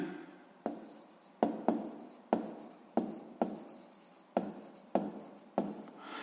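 Chalk or marker strikes a board in a math lesson in a string of crisp taps and short strokes, about a dozen sharp onsets each trailing off quickly, close and otherwise quiet.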